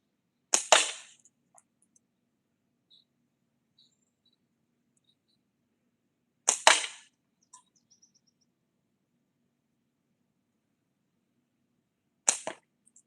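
A slingshot being shot: three sharp, snappy releases spaced several seconds apart, each a brief crack followed by near silence in a quiet setting.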